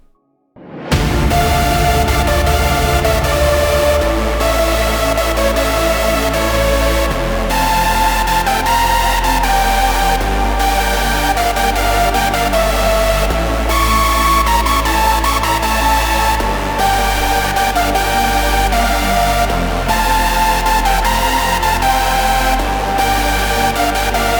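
A loud hardstyle track plays continuously after a brief silent start, driven by heavy pounding kicks and bright sustained synth leads with no talking.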